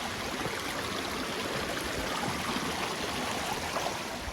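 Stream water rushing steadily along a waterfall hiking trail in Branson, Missouri, a continuous close broadband wash of flowing water with no voices.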